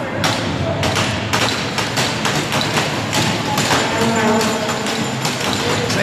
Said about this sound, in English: They're on their feet, banging their sticks.